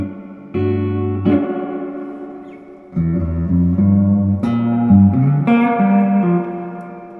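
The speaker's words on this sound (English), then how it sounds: "So yes, so this reverb is quite splendiferous when you turn it up." Spring reverb of a Fender FSR Princeton 65 guitar amplifier turned up high, washing over sustained electric guitar chords and notes with a thick, splashy tail that rings between phrases, loud and close.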